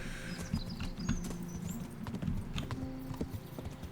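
Horse hooves clip-clopping at a steady riding gait in the video game Kingdom Come: Deliverance, an even, close rhythm of hoofbeats continuing throughout, with faint ambient sounds behind.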